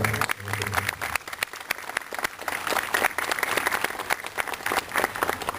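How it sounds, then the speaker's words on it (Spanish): Strong, sustained applause from a university gathering audience welcoming a doctor, dense clapping throughout with crowd murmur, starting just after a short musical tone. "Doctor Jorge Alba Hurtado, lo recibimos con muy fuerte palmas."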